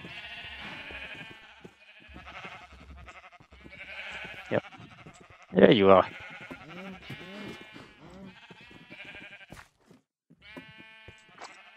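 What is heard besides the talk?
sheep bleating in a video game (Minecraft SMP)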